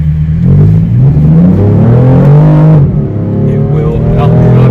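A BMW M4C engine revs up under acceleration, a loud steady drone that climbs in pitch and shifts gear midway, heard from inside the car with a voice talking over it.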